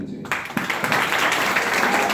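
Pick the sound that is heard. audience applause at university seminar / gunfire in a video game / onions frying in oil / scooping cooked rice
audience applause at university seminar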